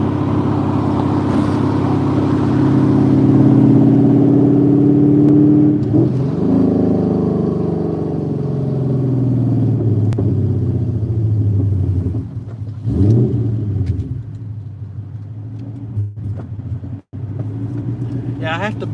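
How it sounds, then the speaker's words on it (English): Ford Cobra with a Coyote engine swap, throttle blipped to keep it from stalling while coming to a stop, a loud close rumbling drone rising and falling with revs, someone talking over it in the second half. "I have to blip the throttle like that or it'll just die coming to a stop"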